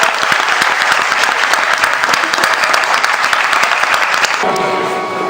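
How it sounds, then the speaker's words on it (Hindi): Guests at a Buddhist wedding applaud to welcome the couple, with loud, close, dense clapping that stops abruptly and leaves a faint tonal hum afterward. "आइए जोरदार तालियों से इनका स्वागत करें।"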